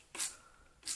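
Two quick hissing sprays of cleaning agent from a spray bottle onto a mattress, close by, separated by a brief pause.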